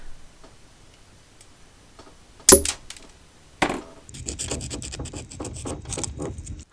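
Wheels being cut off a Hot Wheels Red Line Corvette die-cast car: two sharp close snips or clacks from a small tool, followed by a run of quick rhythmic scraping and ticking as the cutting continues.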